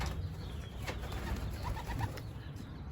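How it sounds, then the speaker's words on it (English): Young racing pigeons cooing as they are released for their first time out, soft low coos over outdoor background noise, fairly faint and steady with a few clearer calls in the middle. "So these are my young racing pigeons right here."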